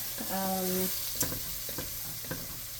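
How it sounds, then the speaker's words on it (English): Mushrooms sautéing and browning in a pan for pizza soup, a soft, low sizzle with a few light taps of stirring and a brief tonal hum near the start. "So I'm going to let that toss for a couple minutes. You want to get those mushrooms there browned up a little bit."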